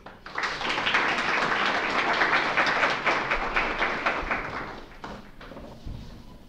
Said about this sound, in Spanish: Sin más preámbulo, vamos a recibirla con un fuerte aplauso.